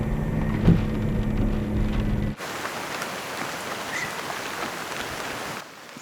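Steady rain falls during the rainy season, a continuous hiss of drops on a surface, first mixed with a low engine-like rumble and then alone as even, close rainfall.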